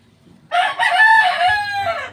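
A six-month-old hunchbacked rooster crows once, loud and close, a single long strained call that rises and then trails off.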